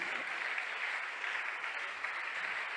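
A church congregation applauding during a sermon, dense steady clapping filling the room with no break.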